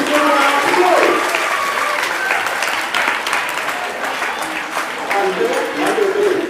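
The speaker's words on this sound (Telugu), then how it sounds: "ఒకసారి టీచర్స్ అందరికీ అభినందిస్తూ గట్టిగా క్లాప్స్ కొట్టండి" A school crowd at an annual day celebration applauds its teachers with steady, loud clapping that continues throughout, with a voice speaking over the applause.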